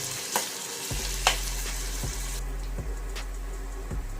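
Sliced onion sizzles and fries in a pan for a spicy bitter gourd dish, a steady crackling hiss broken by a few sharp utensil knocks and stirring scrapes, close and without talking.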